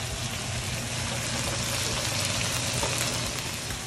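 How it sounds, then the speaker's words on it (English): Organic baby spinach and vegetables sauteing in a hot pan give a steady, dense sizzle that crackles continuously at close range, with no talking. "everything's been sauteing up for a while"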